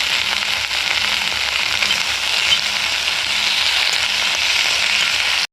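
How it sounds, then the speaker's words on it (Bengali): Bhola fish seasoned with turmeric and salt fry in hot oil in a kadai, giving a loud, steady close sizzle with faint regular low thumps underneath. "দেখো ভোলা মাছগুলোকে ভেজে নিয়েছি।"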